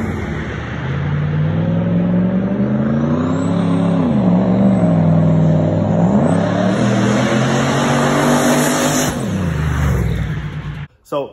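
A turbocharged LS-swapped Dodge Caravan makes a hard full-throttle pull on a street test drive: a loud, rising engine roar that climbs through gear changes and stays close, with a turbo whistle on top, then cuts off abruptly.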